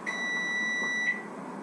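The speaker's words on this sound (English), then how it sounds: "That timer on my oven just told me that my oven finally got actually up to 400 degrees" Kitchen oven timer gives a clear, steady electronic beep on reaching 400 degrees, one long tone with a brief second chirp near the end, close and prominent in a quiet room.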